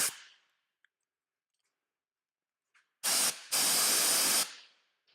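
A Harbor Freight Merlin blow gun fires two loud, close hissing blasts of compressed air, a short burst and then a longer one, after a quieter hiss and a few faint clicks.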